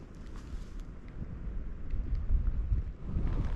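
Low rumbling wind buffeting the microphone on a wet, foggy mountain path near the top of Cadair Idris, a continuous blustery roar that swells and eases, with no voices.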